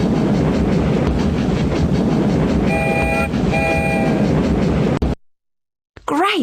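A train in a children's word-typing game rolls along with a loud, steady clickety-clack and a brief two-tone horn toot midway, before cutting to silence and a short closing chime.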